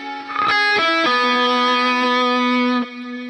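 Distorted electric guitar plays a short melodic phrase from a solo, a few quick notes stepping down into one long sustained tone that rings steadily, then stops cleanly; loud and close, with no talking.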